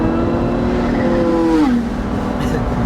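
Loud, close engine drone from inside a Pagani Huayra convertible on the move, a steady tone that rises then drops as the gear changes, running continuously with no talk.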